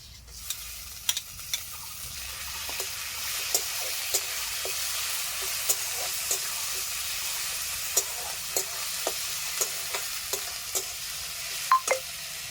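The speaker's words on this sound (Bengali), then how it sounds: "এখন আমি দিয়ে দিব বাটা মশলা আদা বাটা রসুন বাটা পেঁয়াজ বাটা কাঁচা লঙ্কা বাটা দিয়ে দিচ্ছি একসাথে" Ground ginger, garlic, onion and green chili paste frying with pork in a pan, a steady soft sizzle broken by regular spoon scrapes and taps every second or so, close and fairly quiet.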